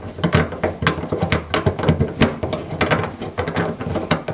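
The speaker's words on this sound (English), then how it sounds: "slide that tool on here to get this nut off" A hand tool works an antenna nut loose on a Honda Del Sol, giving a run of quick, irregular metallic clicks and ratcheting ticks, close and fairly loud.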